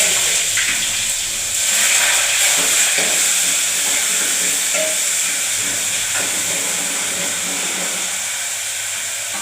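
Curry leaves and tomatoes sizzle in hot oil in a home kitchen, producing a loud, continuous hiss that stays fairly even throughout, close by and without talk.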